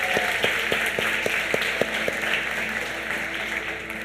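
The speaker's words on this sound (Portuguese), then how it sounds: "nós gostaríamos de recebê-los com uma calorosa salva de palmas" Church congregation giving a warm round of applause, a steady broadband wash of clapping lasting the whole stretch at moderate level, with a faint tonal musical accompaniment pulsing underneath.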